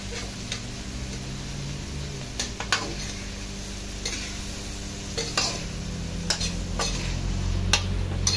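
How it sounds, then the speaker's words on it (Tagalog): Pepper butter shrimps are stirred in a hot pan, with a steady sizzle of frying under repeated scraping and clinking taps of the utensil against the pan. "haluin ulit natin"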